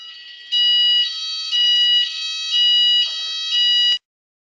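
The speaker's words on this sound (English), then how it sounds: "that was just our fire alarm" A building's fire alarm sounds a loud, piercing electronic tone in repeated pulses, rising and falling in a steady cycle for about four seconds before it cuts off abruptly, with nothing else audible.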